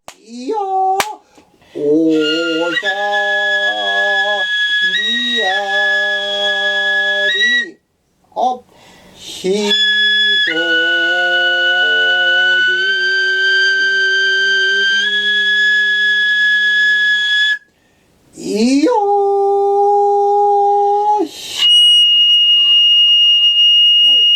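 Plucked shamisen notes with sliding vocal lines over sparse Japanese drum strikes and shouted calls, an ensemble performance with brief pauses between phrases.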